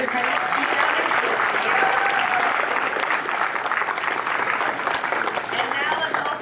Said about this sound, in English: let's give a round of applause for Matt for his incredible keynote